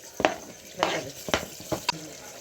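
Tomatoes go into a frying pan holding a garlic-ginger mixture for a potato and peas rice dish, followed by several short scraping stirs over a soft sizzle, close and fairly quiet.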